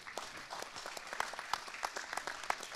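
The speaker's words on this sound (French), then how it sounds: "On peut applaudir Morgane." Applause from a crowd at a startup pitch contest, many hands clapping in a steady moderate stream with a few sharper claps standing out, heard at a distance without any speech.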